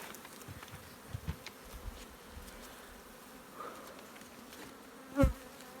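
A quiet, steady hum of honeybees buzzing around an opened hive, with a few louder buzzes as single bees pass close by.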